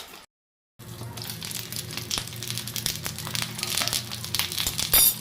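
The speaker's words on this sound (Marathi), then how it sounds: "आता आपण मिरची फ्राय करून घेऊया" Stuffed green chilies frying in oil in a covered pan, a steady crackling sizzle after a brief silence, growing slightly louder toward the end.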